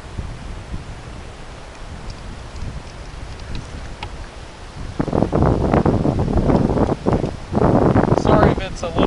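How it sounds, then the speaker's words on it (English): Wind blows outdoors on a gusty day, rumbling and buffeting against the microphone, with steady low rushing noise that swells into stronger gusts partway through. "Sorry if it's a little windy out here"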